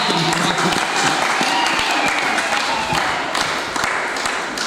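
A congregation at a Valentine's Day church service applauds: dense, continuous clapping from many hands, held steady and close throughout, with voices faintly mixed in.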